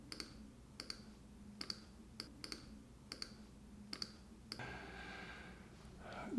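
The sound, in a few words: computer mouse clicking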